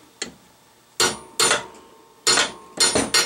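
A hammer taps the back of a wheel stud six times in irregular pairs, sharp ringing metal taps close up with short pauses between them.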